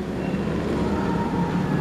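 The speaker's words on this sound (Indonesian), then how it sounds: "kereta satunya lagi mulai dipindahkan nih ke jalur 1." A small rail cart being shunted along the tracks at Garut station produces a steady low rolling rumble with faint rattling, moderately close.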